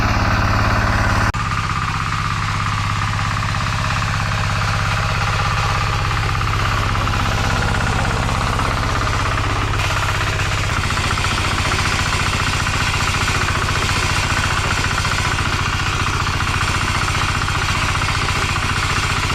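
A diesel walk-behind tractor engine runs steadily in first gear, a loud, close, continuous chugging drone with a knocking rhythm that holds throughout, shifting slightly in tone partway through.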